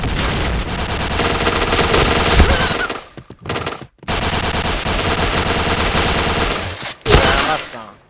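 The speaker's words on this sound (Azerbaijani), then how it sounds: "hələ o birisinə güllə atırdım" Rapid automatic gunfire from a tactical shooter video game, sustained bursts for about three seconds, a brief gap, then another long volley and a final sharp shot, loud and close throughout.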